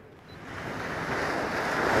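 Sea waves and wind rush steadily around a small round basket boat heading out to sea, a loud continuous surf wash that swells over two seconds with no voices.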